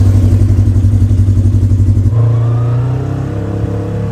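A Polaris RZR side-by-side running on a paved street gives a loud, close, pulsing engine drone that shifts pitch partway through as it changes speed, then settles into a steadier, slightly quieter hum.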